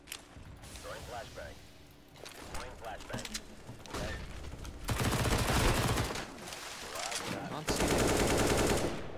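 Bursts of automatic gunfire from the CS:GO video game ring out in rapid volleys, growing louder and denser in the second half, with players talking over the shooting.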